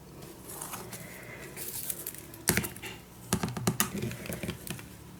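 A paper cutter trims brown paper for an ephemera holder, giving sharp close snaps and crisp crackling cuts over a faint background rustle.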